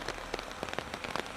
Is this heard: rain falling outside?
yes